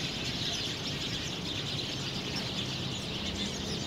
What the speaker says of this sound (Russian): Птицы типа воробьев небольшие.